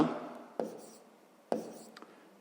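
Pen writing out a math solution on paper, two or three distinct taps followed by soft scratching strokes, close and quiet.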